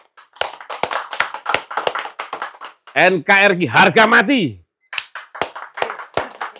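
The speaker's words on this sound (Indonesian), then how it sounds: "Tepuk tangan untuk TNI" An audience claps in quick, sharp bursts of rhythmic hand claps. The clapping comes close and loud, with a group chanting a short slogan in the middle.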